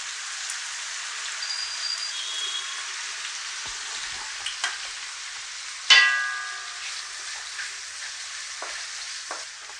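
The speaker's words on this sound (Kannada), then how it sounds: "ಇದನ್ನಿಷ್ಟನ್ನು ಇವಾಗ ಫ್ರೈ ಮಾಡ್ಕೊಳ್ಬೇಕು." Spices with coriander frying in a pan for a chicken green masala, a soft continuous hiss with scattered crackles, a sharp clatter of the spoon midway that rings briefly, then steady sizzling.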